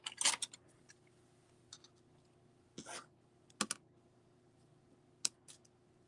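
Paper trimmed for an 8" x 8" scrapbook album, giving a handful of sharp, quiet cutting clicks and snips with gaps of silence between them.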